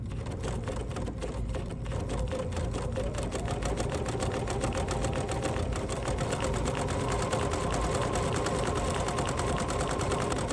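A sewing machine runs steadily through quilt batting, stitching decorative lines for a pie-themed table runner; the close, continuous mechanical whir holds an even rhythm with no pauses and no voices.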